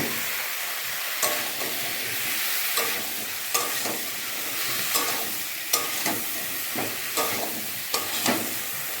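Small chopped eggplant pieces frying in a pan, a continuous hissing sizzle broken by regular spatula strokes and light knocks against the pan, moderately loud with no voices.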